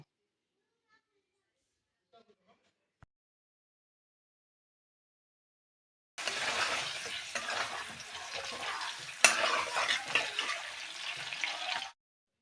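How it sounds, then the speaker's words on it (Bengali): Potatoes fry and get stirred in a wok while preparing spicy pea ghugni, a close, loud crackling sizzle that starts abruptly after several seconds of near silence and continues with scraping stir strokes and one sharp clank. "আলুগুলো কিন্তু আমি ভাজা করছি অনেক টাইম ঢাকা দিয়ে দিয়ে রেখে সাথে সেদ্ধও হয়ে গেছে আর ভাজা করাও হয়ে গেছে"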